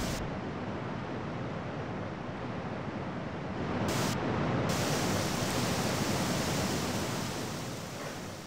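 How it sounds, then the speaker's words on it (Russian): A waterfall in the video game Gothic 2 gives a steady, dense rushing roar that swells slightly midway and holds constant, with no speech over it. "Вот этот водопад."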